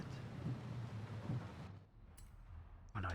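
Rain and rolling thunder from the video game Forza Horizon 5, a dense patter with low rumbles that abruptly drops away to near quiet, then briefly returns at the end.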